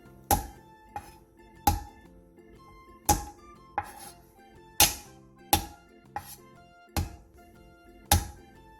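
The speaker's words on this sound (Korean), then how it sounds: "생강 1톨을 편썰고 통마늘 10개를 칼등으로 살짝 내리쳐 으깨주세요" A kitchen knife slicing a knob of ginger on a cutting board and the knife's back crushing whole garlic cloves, giving about a dozen sharp, separate knocks at an uneven pace, each with a short ringing tail, close and clear, with no talk.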